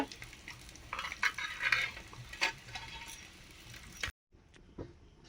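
Singi and magur fish fry in a clay pot, giving a soft sizzle with scraping and stirring knocks from a utensil, fairly quiet, before the sound cuts to near silence.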